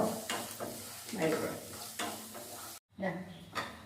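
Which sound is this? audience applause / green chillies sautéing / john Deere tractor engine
green chillies sautéing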